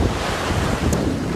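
Atlantic Ocean surf and wind roar together in a steady, loud wash of noise, with gusts buffeting the microphone throughout and no voices.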